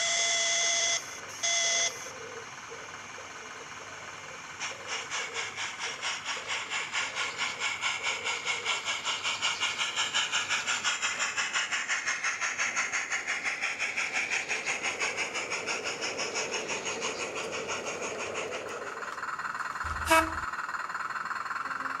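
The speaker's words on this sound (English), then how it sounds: "The down passenger awaits the right-of-way as the permanent way train now returns," A permanent way train returns along a miniature light railway, its small engine building a steady rhythmic chugging that swells and fades over about twenty seconds, with faint beeps and a sharp clunk near the end.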